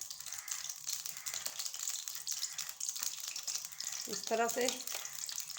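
White cumin seeds sizzling and crackling in hot oil, a faint continuous fry with a short stirring rattle near the end and someone speaking softly over it.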